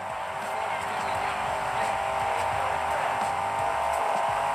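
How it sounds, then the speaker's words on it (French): Racing cars in a video game sweep up from behind, their engine roar a steady, dense drone that swells now and then, heard through a JBL Quantum 610 gaming headset. "on peut entendre de temps en temps les voitures venir de derrière"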